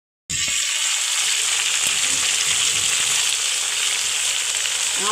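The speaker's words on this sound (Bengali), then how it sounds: "এবার দিচ্ছি শিম, একটু ভেজে নেব আমি" Flat beans frying in a pan, breaking into a loud, continuous sizzle right after a brief silent start and staying steady and close to the end.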